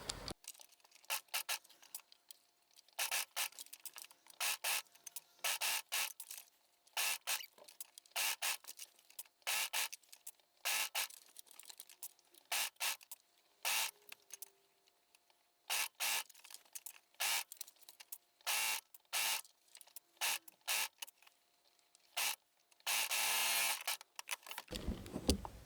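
An overlocker stitches a neckband onto a maternity top in bursts of fast, rattling machine sewing that start and stop repeatedly, with short pauses between runs and a longer, steadier run near the end.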